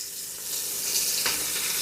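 Garlic and onion sizzle steadily in a hot pan for a quick chicken cacciatore sauté, a close, even frying hiss with a slight swell partway through and no talking.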